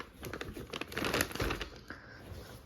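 A plastic bag holding clothes is handled, giving a close, continuous crinkling and rustling with scattered crisp crackles over a couple of seconds, without speech.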